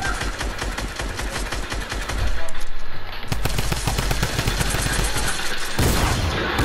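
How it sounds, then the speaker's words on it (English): Loud, continuous automatic gunfire in a video game arena match, rapid rattling bursts with a brief heavier rumble midway and a thud near the end, close and dense throughout. "His teammate shooting at me"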